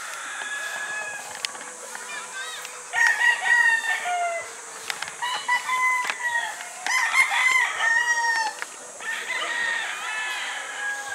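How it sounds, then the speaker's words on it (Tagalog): A rooster crows several times among other chickens clucking on a farm where birds are being banded. The crows are moderately near, over a constant high insect-like hiss. "Yan, may tilaok no."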